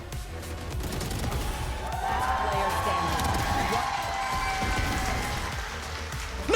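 A big arena crowd roars and cheers continuously at a Valorant esports grand final in Europe, loud dense noise with whoops and shouts sustained throughout, voices mixed into the din.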